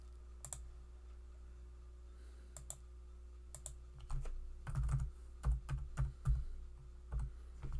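Quiet clicks of typing on a computer keyboard, sparse at first, then quickening into a denser run of keystrokes over a low steady hum, with no talk.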